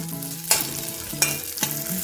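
Green chillies and potato fry in ghee in a pan, a steady sizzle broken by three sharp stirring scrapes, heard close with no voices.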